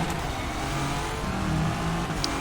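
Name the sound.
Nissan GT-R LM race car engine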